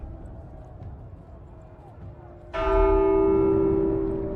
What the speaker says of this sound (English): Who the fuck rang the bell?